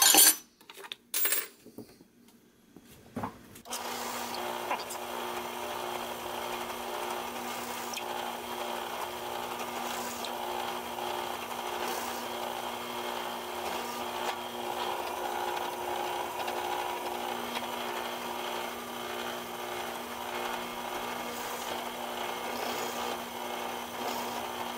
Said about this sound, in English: then we'll bring it over to the drill press